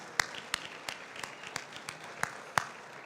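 A handful of people at a fundraiser clap for $1,000 donors: sparse, faint claps spaced about a third of a second apart, with no crowd roar behind them.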